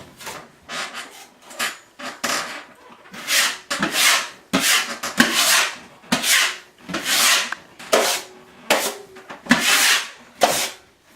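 A 6-inch scraper drags spackle across drywall in a series of long, loud, raspy strokes separated by short pauses, close and without voices.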